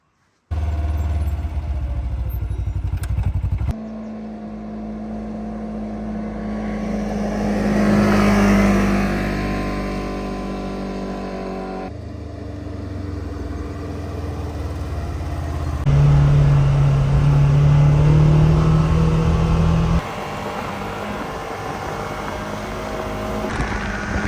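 An Expedition ATV engine drones loudly at close range while driving, its steady hum rising and falling as the revs shift between sustained tones.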